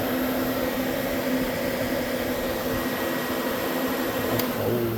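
Electric radiator cooling fans on a GMC Sonoma run steadily, a loud constant whooshing roar with an even motor hum and no pauses, close by.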